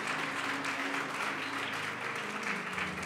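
A church congregation applauds in praise of Jesus, a dense, steady round of clapping from many hands filling the room at moderate volume throughout.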